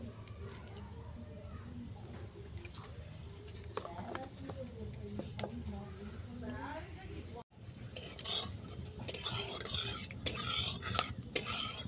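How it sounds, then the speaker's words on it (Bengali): Panch phoron and dry red chilies fry in mustard oil in a kadai while a spoon scrapes and stirs, light clinks and taps over a soft sizzle, fairly quiet and close. "ফোড়নটাকে ভালো করে ভেজে নিচ্ছি।"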